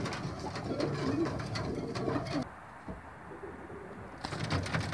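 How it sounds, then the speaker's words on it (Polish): Female racing pigeons in an aviary coo in a steady, low murmur with soft wingbeats and rustling, the birds fairly close, dipping into a quieter stretch before the cooing returns. "Samiczki lotowe na wolierze."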